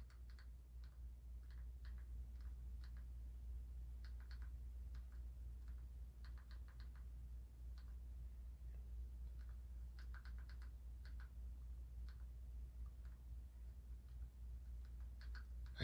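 Soft, irregular clicks of Amazon Fire TV Stick remote buttons typing on an on-screen keyboard, tapped out in short bursts with pauses between, over a steady low hum; no voices.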